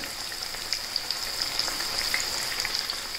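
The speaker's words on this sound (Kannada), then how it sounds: "ಹಾಗಲಕಾಯಿ ಇದು ಗರಿ ಗರಿ ಆಗೋ ತನಕ ನಾವು ಕರಿಬೇಕು." Bitter gourd slices coated in cornflour crackle and sizzle steadily in a pan of hot oil, a dense, close, continuous frying hiss with no voices.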